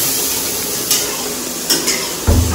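Chowmein ingredients fry in a pan, a steady close sizzle with a few sharp clinks of a utensil against the metal and a thump near the end.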